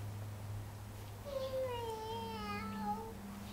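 A voice imitates a cat with a long, rising-and-falling meow, sung out clearly over a low background hum.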